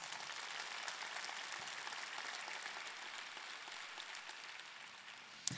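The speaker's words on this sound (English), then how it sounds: "Will you give him a round of applause?" Applause from an audience at a university State of the University address, a fairly quiet, even spread of clapping that holds steady for several seconds with no voices over it.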